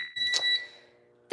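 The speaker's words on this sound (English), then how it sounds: "I don't know why it's just now beeping" A fire alarm demo board gives a single electronic beep that rings out steadily and loud, fading after a moment, followed by a short burst of another tone.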